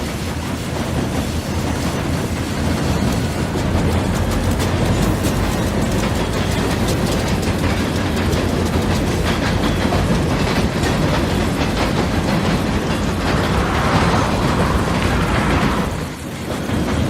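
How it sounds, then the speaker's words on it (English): Southbound freight train led by an SD50 locomotive rolling past up close, a steady loud roar of wheels and cars with rhythmic clatter throughout, easing slightly near the end. "This train originates in Delta Yard near Toledo."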